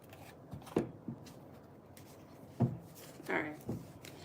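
Tarot cards are shuffled by hand in several quiet, separate bursts of riffling and soft slaps, spread unevenly over a few seconds against a hushed room.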